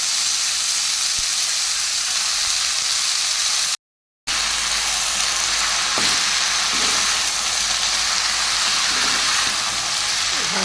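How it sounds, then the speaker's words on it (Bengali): Continuous loud sizzle of red amaranth greens stir-frying in a pan with fried onion, with occasional stirring scrapes and a brief moment of silence partway through. "শাকটা নেড়ে চেড়ে ভেজে নিচ্ছে"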